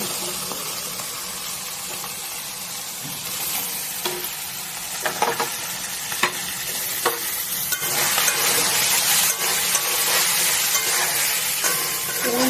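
Mutton keema frying with chilli powder, cumin, coriander powder and chopped tomato, being stirred in the pan with a steady sizzle and scraping, growing louder and denser toward the end; no one talks.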